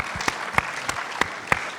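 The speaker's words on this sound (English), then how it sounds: "give them all a round of applause" Audience applause for a panel at an event, a soft wash of scattered clapping with a handful of sharper individual claps standing out at irregular intervals.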